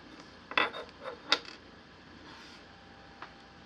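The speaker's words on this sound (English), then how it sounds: "I'll take that stud back out." Small M3 by 0.5 pitch stud being unscrewed from the thumbwheel of a Lunt 40mm hydrogen-alpha solar telescope, giving a few faint, close creaks and ticks in quick succession, then a single light tick after a pause.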